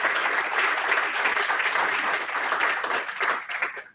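An audience at the Alaska Marine Science Symposium gives a sustained round of applause for the ocean acidification speakers, a thick wash of clapping that holds steady and tapers slightly at the end.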